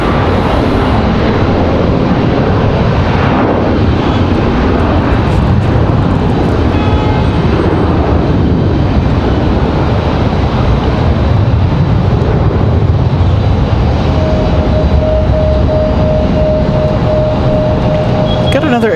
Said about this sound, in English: Let's check on our American departure there. American 1897 back to Charlotte.